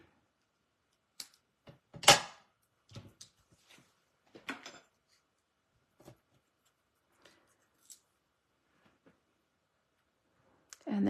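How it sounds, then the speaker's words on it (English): Scissors trimming a decorative paper strip for a handmade card, a few short crisp snips and clicks with quiet gaps between them, close by and fairly soft. "This one might be kind of small. Let's see. Yep, let's trim that."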